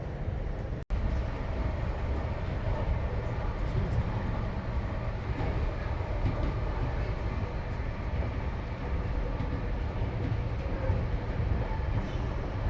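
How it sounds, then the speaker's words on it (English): A steady, loud rumble of a train pulling into Kitchener station, rolling along the tracks, continuous and close, with no voices. "looks like the train is just pulling into Kitchener now"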